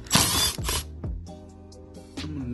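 Screws being removed from the front passenger door panel of a 2015 Chevrolet Tahoe, close clicking and ratcheting mechanical sounds with a few sharp knocks, loud and alone with no talk.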